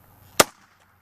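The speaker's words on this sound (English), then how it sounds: "I'm going to go ahead and just use the hammer for maximum force and hopefully a good explosion" A homemade airsoft shotgun pistol is fired by striking it with a hammer, giving one sharp, loud close bang with a short decay into quiet.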